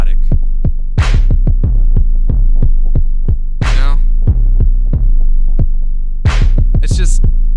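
A complex programmed beat made live for a stream thumps loudly: heavy sustained sub-bass under sharp percussive hits, with a few bright crashing swells. The groove is busy and continuous, with no voices.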